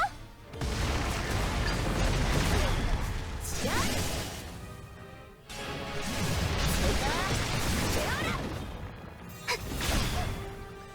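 Fireworks-like explosions in the video game Seven Knights Re:BIRTH: a string of bursts and crackling booms in two main waves, fading between them, with game effects.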